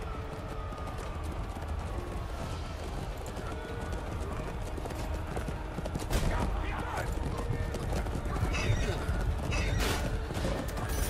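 Horse hooves clip-clopping at a gallop with an occasional neigh in the medieval combat game Chivalry 2, a steady rhythmic drum of hooves under battle clatter and someone talking.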